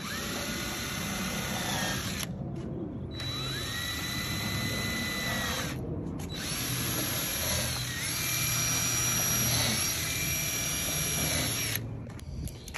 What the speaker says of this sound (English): put a little drill bit on here just to mark it so we know where the screws go